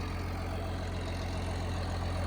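A John Deere 4840 tractor engine runs steadily in snow and ice, a loud continuous low rumble with no breaks or talk.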